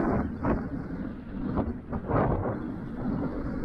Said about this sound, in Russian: Порыв ветра уже сильно за 15 метров в секунду.